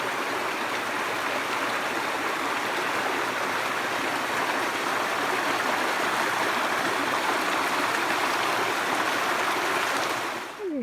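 A creek flows steadily outdoors in an off-grid bush setting, a continuous close rushing and babbling of water that holds even throughout.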